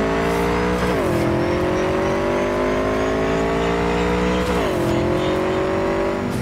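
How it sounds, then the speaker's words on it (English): A motorcycle tearing through the city in the video game Cyberpunk 2077, a loud, continuous engine drone that drops in pitch twice as it shifts, then climbs steadily again. "I do like tearing through the city on this motorcycle."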